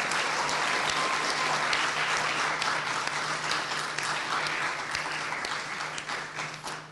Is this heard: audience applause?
yes